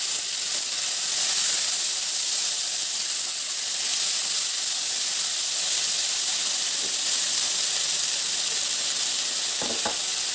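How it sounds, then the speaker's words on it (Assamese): Steady, loud sizzling of paneer masala gravy frying in a pan on a low flame, a continuous close hiss with faint stirring clicks and no talking. "ফ্লেমটো কম কৰি অলপ সময় ফ্ৰাই কৰিব লাগিব।"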